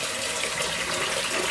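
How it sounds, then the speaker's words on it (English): A hot water tap runs into a bowl, giving a steady, close hiss and splash of flowing water for the whole short stretch, with nobody talking. "run the hot water tap, run some hot water into it to warm the whole thing up"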